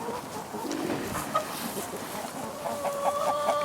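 Chickens cluck and murmur inside a mobile chicken schooner coop on a farm, a busy overlapping flock close by, with soft coos and rustling and a brief tonal call near the end.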